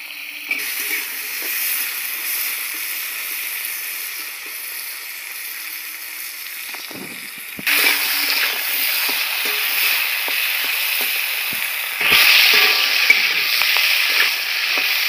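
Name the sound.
chopped vegetables frying in a pan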